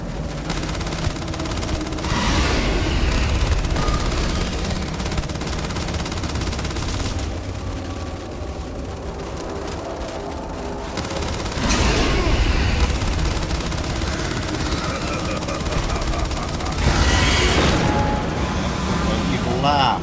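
Sustained gunfire in the sci-fi game Starfield, a dense rattle of shots with heavy low booms that swells in several bursts over a loud, continuous battle din.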